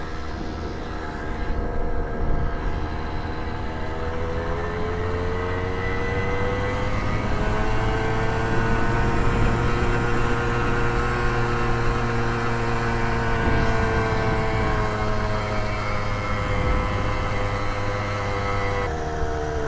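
A restored 1978 Puch Newport moped motor running on a test ride, a loud, steady, buzzing drone whose pitch rises and falls gently as it rides along, with wind rumble underneath.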